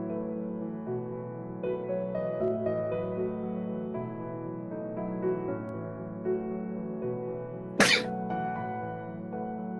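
A single sharp sneeze cuts through a quiet room during a tabletop game session, loud and brief over a low steady background hum.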